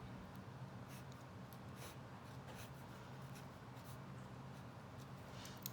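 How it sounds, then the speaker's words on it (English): A pen sketches a quick graph on paper, giving a continuous faint scratching with soft strokes throughout, close up and without speech. "I'm just going to sketch it real quick."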